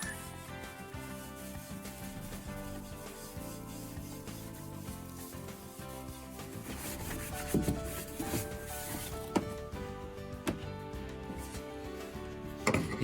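Plywood surfaces are scrubbed and wiped clean before bonding during teak step work on a Hallberg-Rassy 312 sailboat, giving continuous rubbing and scraping with occasional sharper knocks, close and fairly loud over faint background music.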